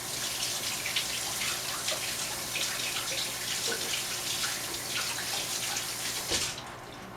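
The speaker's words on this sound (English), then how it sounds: "I'm going to rinse my hands quickly here." Running tap water pours steadily over hands rinsing under a kitchen faucet, a broad continuous splash that stops abruptly near the end.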